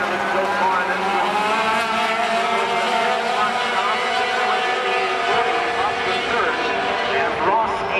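Sport trucks race around Wisconsin International Raceway in a heat, their engines roaring in a steady, dense wall of sound while an announcer talks over the top throughout.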